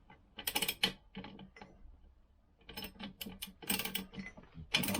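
Socket ratchet undoing the engine bolts on a Vespa PX during an engine strip, giving several bursts of quick clicking close by with short pauses between them.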